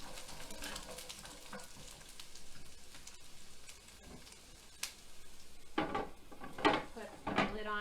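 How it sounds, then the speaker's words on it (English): Zucchini and carrots sizzle and crackle in a hot pan while a utensil scrapes and clatters through them, with faint voices in the background. "we'll just give those kind of a quick stir"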